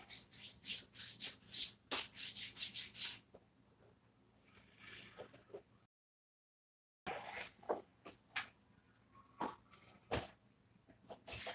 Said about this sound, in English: Rub that muscle.